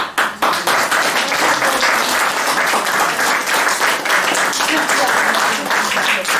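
Audience applause after storytellers at a tales evening, a loud, dense burst of clapping that swells at once and holds steady throughout, with voices faintly mixed in.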